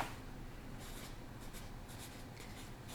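A pencil writes on paper in soft, scratchy strokes, with brief bursts of higher hiss as the lead drags across the sheet over about three seconds, close and quiet, with no voices.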